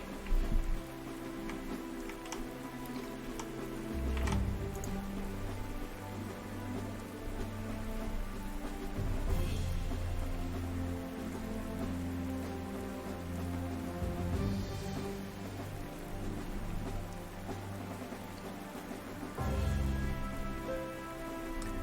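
Steady rain patters softly and continuously over calm background music in the war strategy game Panzer Corps 2, with no talking.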